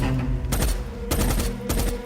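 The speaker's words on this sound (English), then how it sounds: "suddenly is confronted with a Tech 9 weapon. And he just starts shooting him." Gunfire from a Tech 9 (Intratec 9) pistol rings out in three sharp bursts about half a second apart over a low, sustained tonal drone.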